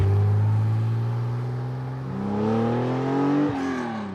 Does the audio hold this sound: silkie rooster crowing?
no